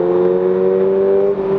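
A Toyota GR86 engine holds a steady, loud tone from inside the car as throttle comes on after braking on a downhill road, a smooth sustained drone with a slight dip near the end.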